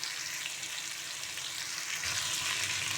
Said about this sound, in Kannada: ಕಡಿಮೆ ಉರಿಯಲ್ಲಿ ಹಾಕಿ ಫ್ರೈ ಹಾಕಬೇಕು,